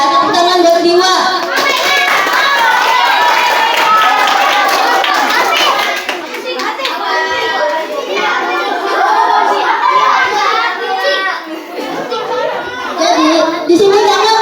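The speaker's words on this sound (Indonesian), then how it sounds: "Tepuk tangan buat Diwa." Classroom applause for a student named Diwa during an anti-bullying campaign presentation, with busy clapping and children's chatter running steadily throughout, loud and close, fading slightly midway before picking up again.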